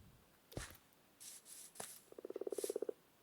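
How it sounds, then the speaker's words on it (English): A video-game frog croaks in a rapid pulsing burst of about a dozen beats, loud and close, after a couple of short thumps and rustles. "clearly they were scared off by that frog that just fell from that tree"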